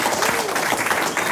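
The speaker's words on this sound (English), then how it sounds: "A round of applause once again for" A live audience at an intimate music interview with a band claps for their album, a dense burst of clapping mixed with a few voices, fairly loud and continuous.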